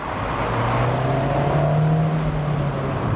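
A small-engined Abarth 124 Spider runs steadily while driving, a continuous low engine drone with a faint rising tone and road noise close by, holding at an even level throughout.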